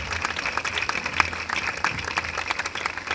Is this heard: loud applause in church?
yes